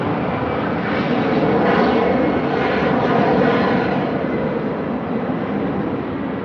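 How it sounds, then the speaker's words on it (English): Airplanes pass overhead, producing a loud continuous engine roar that swells gently and stays steady throughout, with no talking. "Got the planes going over my head."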